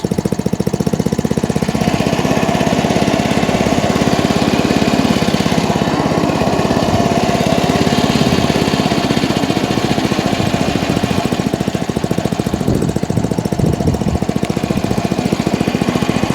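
A Masport Olympic lawn mower's petrol engine roars steadily at high revs after a clutch replacement, loud and close, with a brief dip and rough sputtering near the end before picking up again.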